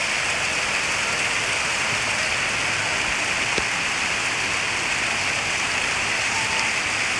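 Floodwater rushes through flooded streets in a steady, dense hiss that sounds like heavy rain, continuous and fairly loud, with no voices.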